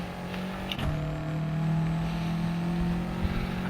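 A Subaru race car accelerates at full throttle out of a corner at Laguna Seca, a steady, loud engine drone that rises slightly in pitch, heard from inside the car with a brief click near the start.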